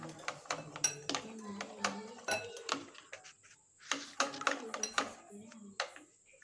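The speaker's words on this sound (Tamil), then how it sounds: "ஒரு முட்டை எடுத்துக்கோங்க, அதை நல்லா மிக்ஸ் பண்ணிக்கலாம்." An egg is mixed in a bowl for prawn fry batter, with rapid clinking of a utensil against the bowl in close, irregular bursts, while a voice is faintly present at times.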